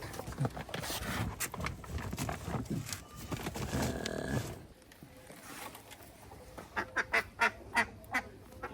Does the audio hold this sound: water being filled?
no